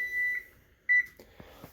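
An electric stove timer beeps a few times, clear and close, followed by quiet kitchen clatter.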